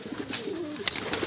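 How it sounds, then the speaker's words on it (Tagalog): Racing pigeons cooing before feeding, a close, soft, rolling coo with a few faint rustles around it. "Nagkakagulo na nga yung ating mga ibon eh"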